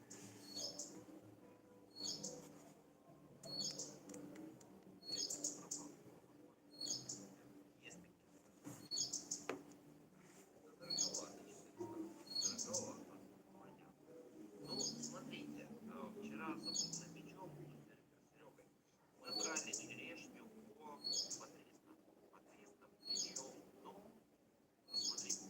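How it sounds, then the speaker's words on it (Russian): Birds sing outdoors by the Black Sea, short high chirps repeating every second or two at a moderate distance, under low murmuring voices and soft background noise. "Слышно, птички поют как."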